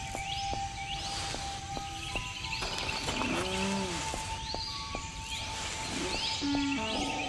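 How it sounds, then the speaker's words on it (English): A pelican calls from the ambience of the Cenozoic Survival video game, short honking cries rising over a steady wash of wildlife and insect noise, with repeated faint clicks and other distant animal calls around it. "Okay, that was definitely a pelican."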